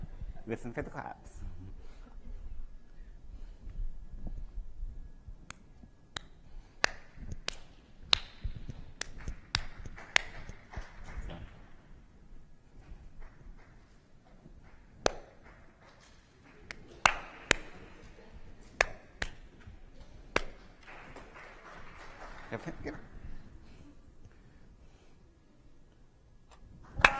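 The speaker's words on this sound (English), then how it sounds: "Listen for the claps." Scattered sharp hand claps sound at a conference session, isolated and irregular across the clip, some in quick pairs, with people talking quietly in the background.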